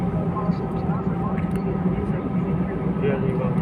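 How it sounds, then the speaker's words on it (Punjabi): A loud, steady engine roar fills the cabin as a plane builds speed, a constant low rumble with faint voices underneath. "ਜਹਾਜ਼ ਰਫ਼ਤਾਰ ਪਕੜਨ ਦਾ ਪਿਆ"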